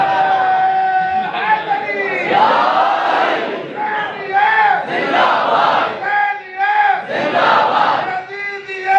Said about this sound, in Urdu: نعرے تے پابندی ہے یا موسیٰ کا نعرہ ہے